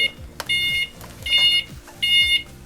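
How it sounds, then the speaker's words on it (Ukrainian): Beeper on a MAXXTER ANT electric scooter sounds three short repeated electronic tone bursts at a steady rhythm over engine or road rumble while pulling into a garage, close and fairly loud. "Тобі оця пікалка не міша?"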